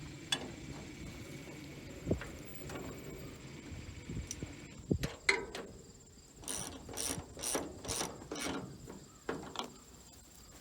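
A ratchet clicks in short bursts while tightening a belt tensioner on a John Deere 9500 combine during wheat harvest, quiet and close with irregular metallic clicks and pauses.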